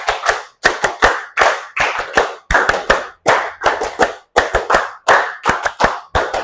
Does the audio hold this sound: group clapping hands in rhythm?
yes